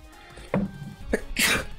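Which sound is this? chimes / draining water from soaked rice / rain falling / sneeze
sneeze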